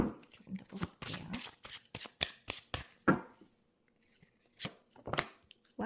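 Tarot cards being shuffled by hand, with quick close bursts of riffling and slapping, a short pause, and then a few more shuffles, all fairly quiet.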